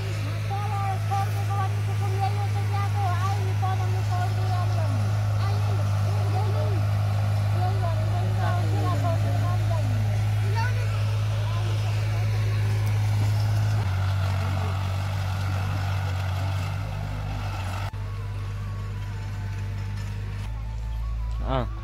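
A tractor engine runs steadily and loudly close by for the whole stretch, a strong low drone with a shift in pitch near the end, while people talk over it.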